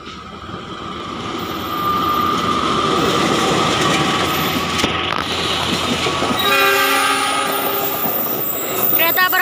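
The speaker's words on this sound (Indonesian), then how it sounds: "Kereta Brawijaya tujuan Malang" The Brawijaya passenger train bound for Malang rolls past close by, a loud continuous rumble of wheels and cars with a horn-like tone sounding through it.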